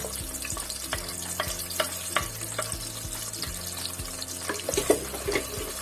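Onions frying in hot oil in a pan for aloo palak, a steady close sizzle with faint clicks and stirring taps, a low hum underneath and no voices.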